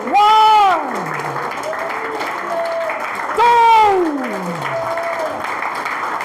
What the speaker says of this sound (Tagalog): malakas na palakpak for 3 seconds na may kasamang sigaw ng papuri